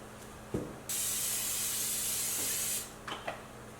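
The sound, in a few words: cooking spray sprayed onto pizza pan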